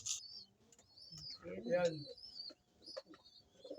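Young pigeons make soft, high squeaky calls in short bursts, mixed with low cooing and clucking sounds. Someone speaks briefly and quietly nearby.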